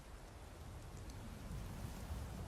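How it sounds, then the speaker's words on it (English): Steady rain falls in a dense, even hiss, with no distinct drops standing out. It is quiet and continuous, with no voices. "Wait out this rain."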